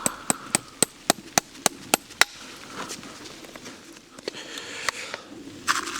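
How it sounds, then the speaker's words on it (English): A farrier hammers nails into a horseshoe, a run of about eight sharp, evenly spaced metallic strikes up close, then a few scattered blows after a pause. "a lot of nailing on is purely the angle you're going for, and you actually listen to it"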